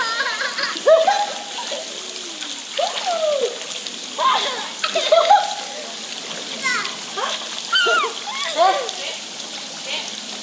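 Water splashing in a shallow pool where twin children are swimming, repeated close splashes and splatters in irregular bursts, mixed with children's chatter and shouts.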